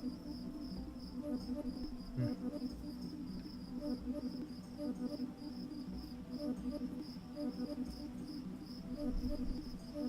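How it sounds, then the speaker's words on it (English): Steady chorus of crickets chirping in a continuous, even trill, moderately close and alone with no talk, holding constant throughout. "Yes, I hear you, crickets"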